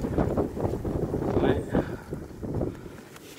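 Gusty wind buffeting the microphone at a beehive apiary during a storm, low rumbling blasts rising and falling in waves, with a person speaking briefly over it.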